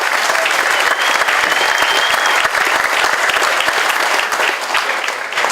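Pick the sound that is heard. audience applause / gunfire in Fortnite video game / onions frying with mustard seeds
audience applause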